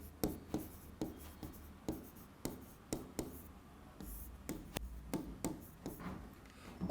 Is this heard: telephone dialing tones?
no